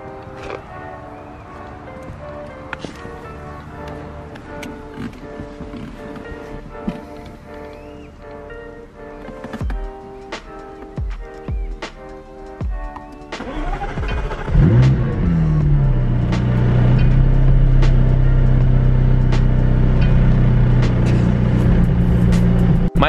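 McLaren 675LT supercar engine cranking and firing up around midway, then settling into a loud, steady close idle that fills the rest, after softer background sounds at the start.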